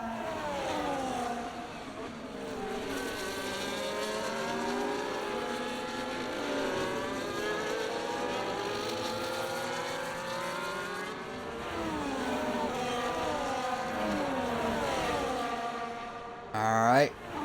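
Race cars in the Singapore round of a sim racing league race drone steadily throughout, their rising and falling engine tones layered under continuous talk, with a brief louder burst near the end.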